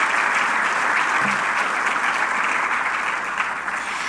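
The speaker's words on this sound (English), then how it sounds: "Please, let's appreciate him with another round of applause." Sustained audience applause at a health survey results dissemination event, a dense steady wash of many hands clapping throughout, fairly loud and continuous with no talk over it.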